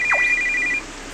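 A phone rings in the Nina Aquila: Legal Eagle video game: a short, bright electronic trill with a quick swooping tone, followed by quiet background.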